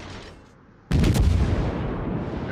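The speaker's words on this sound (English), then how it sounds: "Man, that was a great salvo, wasn't it?" A Pensacola cruiser's main guns fire a salvo in the naval video game World of Warships, a sudden loud broadband boom after a quiet moment, followed by a long rolling rumble that slowly fades.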